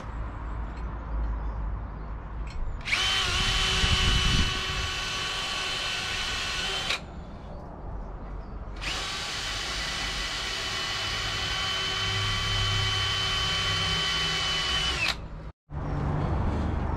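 A power drill bores a pilot hole during an off-grid trailer fit-out, two sustained whining runs of several seconds each separated by a brief pause, loud and close, over a steady background hum.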